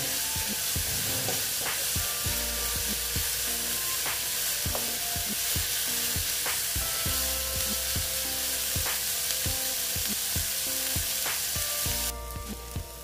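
A semolina snack mixture seasoned with chaat masala fries in a pan with a steady, loud sizzle, punctuated by regular scraping knocks of stirring throughout; no one speaks.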